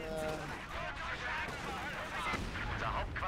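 Gunfire and shelling in Company of Heroes 2, a steady rumble of shots with a voice speaking over it throughout.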